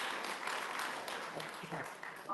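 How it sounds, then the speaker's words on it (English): A crowd at a Workers Party of Britain gathering applauds a local councillor in Deeplish: steady, faint, somewhat distant clapping that holds through the short stretch. "Let's give him a big round of applause."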